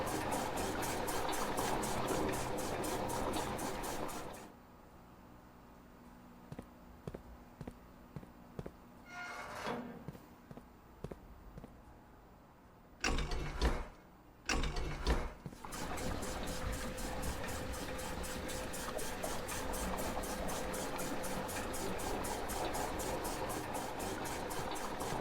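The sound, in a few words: pumping fountain water into tank in Blue Prince video game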